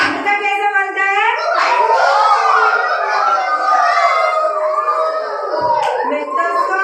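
Children's voices imitate a rooster crowing in a playful animal-sounds game, a chorus of rising, wavering calls sustained for several seconds, loud and close, with overlapping young voices throughout.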